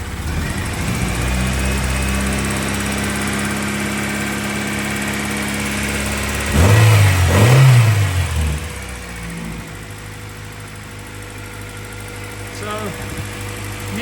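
A revived Honda Integra DC2 Type R engine runs at a steady idle, then blips up twice in quick succession before settling back to a lower, even idle; loud and close.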